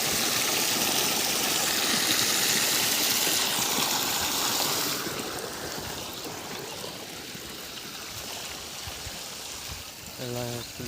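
Steady rushing water pours from an irrigation pipe into a planted rice paddy, loud and continuous, with a low engine-like hum underneath that softens partway through.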